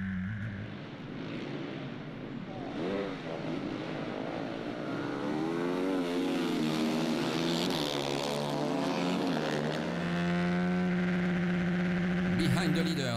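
Aprilia racing motorcycles accelerating along a track straight, a rising, wavering engine whine that builds and holds loud, under a commentator's continuous talk.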